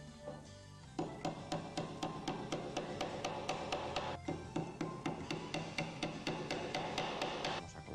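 Rapid, regular taps of a small hammer driving tacks, sharp metallic knocks repeating close by after a brief pause at the start.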